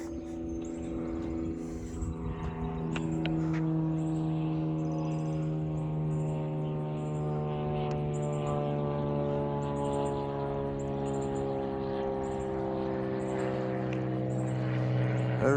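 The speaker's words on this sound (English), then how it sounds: "A little airplane." A small propeller airplane passes overhead outdoors above a garden, a steady buzzing engine drone whose pitch slowly sinks as it goes by, moderately loud and continuous, with faint bird chirps in the background.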